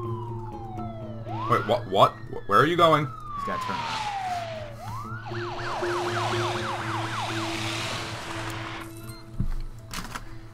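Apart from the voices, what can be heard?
ambulance siren in the video game SimCity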